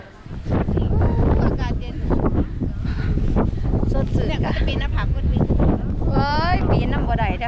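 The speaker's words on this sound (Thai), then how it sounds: "ลมจะเย็นสดชื่นมาก" Wind blows steadily at a hilltop viewpoint, a continuous rushing roar buffeting the microphone throughout while people talk over it.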